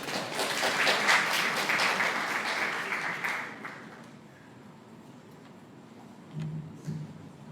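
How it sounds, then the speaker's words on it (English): Audience applause at a Mr & Ms Madang pageant introduction night during a prize draw, a few seconds of crowd clapping that fades out, leaving quiet room tone with a couple of faint thumps. "Clap for him, please."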